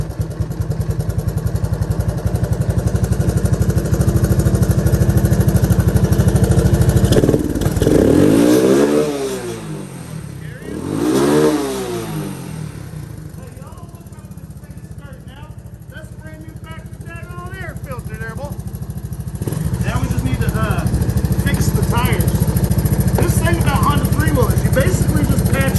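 A Honda ATC200S three-wheeler engine with a bigger carburetor idles loudly, then revs up and down in two surging sweeps before settling back into a steady rumbling idle.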